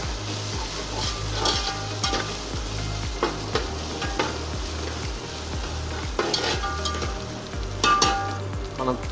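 Masala for Nellore fish curry frying and being stirred in a pan, with a continuous sizzle, regular scraping strokes of the spoon and occasional sharp metallic clinks against the pot, close up and without talk.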